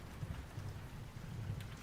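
Steady rain falling in a dense, even patter, with a soft low rumble underneath, constant and moderately quiet throughout, no voices.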